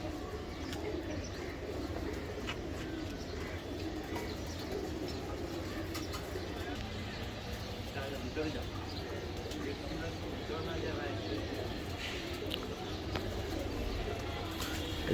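Young racer pigeons coo in a loft, the soft calls repeating steadily through a constant murmur of background noise.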